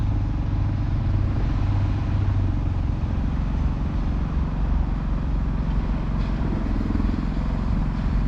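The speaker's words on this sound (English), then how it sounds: "Bit noisy, isn't it, that old Chevy?" An old Chevy engine runs noisily on a heritage railway outing, a steady loud low rumble and drone that persists unbroken throughout with no talk over it.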